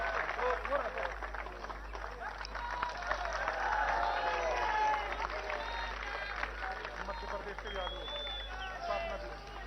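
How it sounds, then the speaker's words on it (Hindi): A large crowd at a political rally in Gwalior applauds continuously, a dense wash of clapping heard from a distance, with faint voices mixed in. "जिनका आज जन्मदिन है, तालियां बजाइएगा, अशोक सिंह जी"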